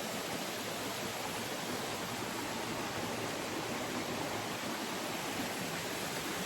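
A clear waterfall in a forest gives a constant, dense rushing roar, loud and unbroken from start to finish, with no voices.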